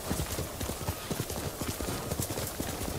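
Steady, rapid clip-clop of horse hooves from a Ghost of Tsushima ride, an even rhythmic trot close by over a continuous noisy background.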